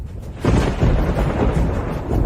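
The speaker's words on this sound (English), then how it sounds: "It's just thunder." Thunder rolls in as a heavy, deep rumble that swells suddenly and keeps booming loudly to the end, with no voices.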